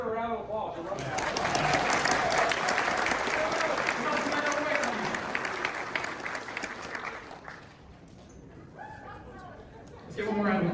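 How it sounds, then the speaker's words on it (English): Crowd applause and cheering at an outdoor truck show awards, swelling loudly for several seconds then fading, with voices chattering underneath and a person speaking near the end. "Everybody give her a round of applause."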